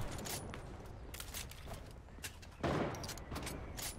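Gunshots in a Fortnite match, heard as quiet, scattered cracks and a heavier report amid constant background game noise.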